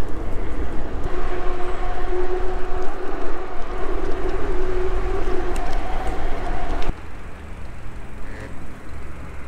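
A tram rumbles past close by in Poland with a steady low roar and tonal hum, then the noise drops off abruptly near the end.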